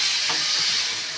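Cauliflower and potato frying in a pan give off a steady, close sizzling hiss that holds evenly for a brief moment.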